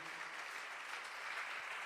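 A church congregation applauds during a worship service, a brief, even wash of many hands clapping that sounds somewhat faint and distant.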